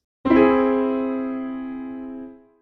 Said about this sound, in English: An augmented triad is when you build a chord by stacking two major thirds on top of each other